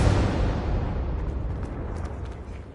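A Confringo blasting curse explodes in Hogwarts Legacy, a loud broad blast that opens sharply and fades into a long rumbling decay with faint crackles over nearly three seconds.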